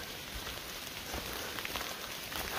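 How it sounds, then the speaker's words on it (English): Light rain and water dripping from trees onto a leafy Appalachian Trail in cold, wet weather, a steady close patter and hiss with scattered heavier drops throughout, no talking. "Still kind of light rain or wind from the tree, rain, water from the trees, misty kind of thing."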